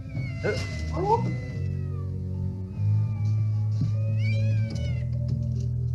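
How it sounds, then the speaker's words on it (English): A cat trapped inside a wall in a 1959 film yowls and caterwauls in long, rising, wavering cries, several drawn-out calls close and loud over a steady low hum, with no talking. "Cat in the wall!"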